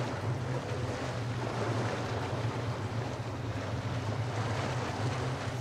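Flowing river water in the video game Metro: Last Light, a continuous low rushing wash with a steady hum underneath and no voices.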